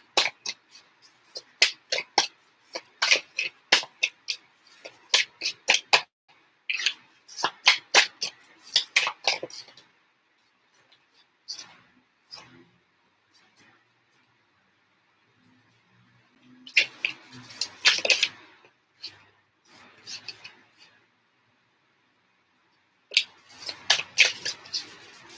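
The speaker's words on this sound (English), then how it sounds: "I'm going to shuffle to get a little bit more info." Tarot cards are shuffled close up in a run of sharp riffling and flicking bursts, then pauses and a few more short shuffles, with no talking.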